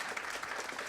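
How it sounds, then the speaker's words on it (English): Audience applause closing a public health panel talk, a dense steady wash of clapping through the whole brief moment without a break. "Another round of applause."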